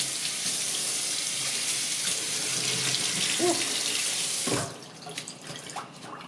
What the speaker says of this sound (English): Do a quick little rinse.